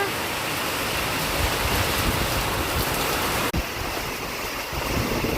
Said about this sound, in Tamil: வீட்டுக்கு வெளியே வந்தாலே மழைங்க.